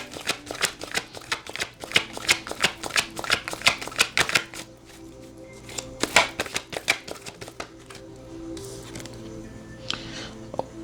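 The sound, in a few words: shuffling tarot cards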